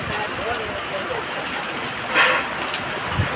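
Rain pours down steadily outdoors, a dense continuous hiss with scattered drops close by, while people talk over it.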